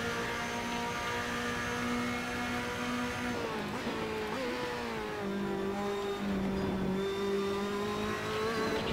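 Race car engine lapping Monza in the Assetto Corsa racing game, a loud sustained harmonic drone that shifts pitch as the car accelerates and backs off, running steadily throughout with no talk over it.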